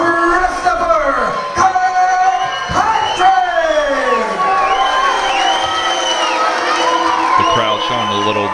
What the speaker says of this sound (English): The crowd showing a little disapproval of Nick's opponent.